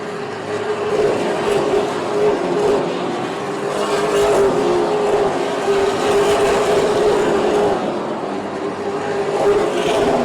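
Super late model stock cars race in the Easy-Kleen Super Late Model Series Chapman Bros 150 at Oyster Bed Speedway, a steady loud engine roar from the pack that stays sustained and dense throughout.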